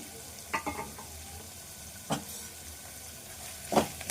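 Sliced onion and green chilies with fenugreek leaves frying in a pan, giving a soft, steady sizzle broken by a few isolated stirring scrapes and clinks of a spoon, fairly quiet and with no voices.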